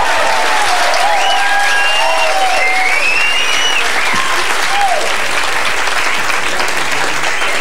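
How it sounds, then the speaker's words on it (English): A standup comedy show audience applauds: loud, dense, sustained clapping that fills the room evenly, with faint cheers and a few voices mixed in. "How about another nice round of applause for John Fox?"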